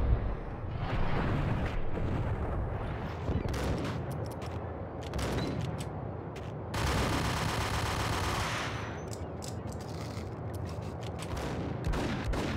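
Gunshots in the Max Payne action game, a dense, sustained barrage of rapid firing with bursts and heavy impacts, loud and close, continuing across the whole stretch with no talking.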